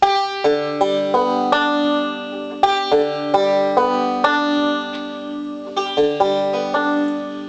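A banjo in open G tuning strummed in open chords, a series of bright plucked strums with short gaps between them, ringing clearly on its own.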